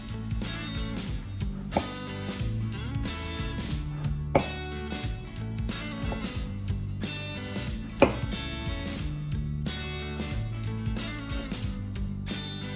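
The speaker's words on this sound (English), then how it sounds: "Cut in half lengthwise and cut off, leaving 2 cm form of top and slice in 3 mm width" A knife cuts a vegetable into 3 mm strips on a cutting board for tempura, giving steady, rapid, close tapping chops that continue evenly with no talking.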